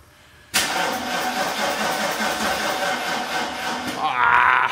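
A Mercedes car with a weak battery cranks steadily without catching, the loud starter grinding on for several seconds after a quiet start.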